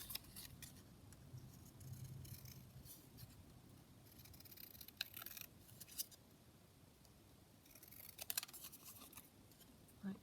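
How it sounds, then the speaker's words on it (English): Scissors snip out a paper ticket for a handmade birthday card, with quiet, close crisp cuts in short bursts against a faint background hiss. "I've got this ticket, so I'm just going to cut the ticket out."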